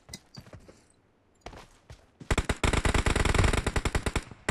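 Rapid automatic gunfire in the PUBG Mobile video game, starting with a few scattered shots and then a dense, loud burst of fast repeated cracks for the last two seconds.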